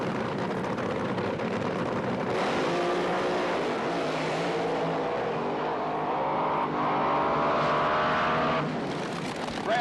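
A 1978 NHRA Gatornationals dragster roars down the strip on a single run, a loud sustained engine howl with shifting pitch that fades slightly at the end, with no voices over it.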